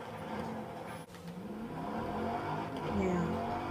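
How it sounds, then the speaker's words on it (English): A race car engine in the video game Forza Horizon 3 growls and revs steadily, with rising whines as it accelerates, loud and continuous throughout. "Oh, my car makes such a nice sound."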